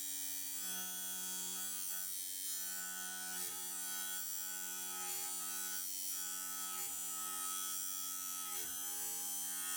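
A machine slits a steel collet, a steady buzzing hum with tonal drone, cut into with soft periodic dips every second or so, close and continuous with no talking.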